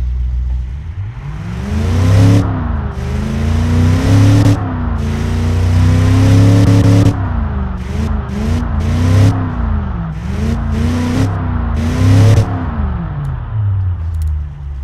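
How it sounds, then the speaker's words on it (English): A 1957 4x4 pickup truck engine in the Automation game, revving up and down repeatedly in smooth rising and falling sweeps, loud and close with a steady mid-pitched drone between throttle blips. "As you can hear, the engine is very smooth when it's idling."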